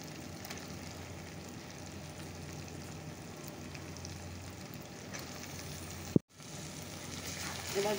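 Chicken fries in a pan with a steady, fairly quiet sizzle and crackle throughout, broken by one brief clatter near the end.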